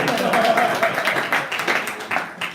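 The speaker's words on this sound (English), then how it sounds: "Another round of applause for our day's college" Audience applause at a STEM teachers' TeachMeet in Glasgow, a broad crackling wash of many hands clapping at moderate distance with some voices mixed in throughout.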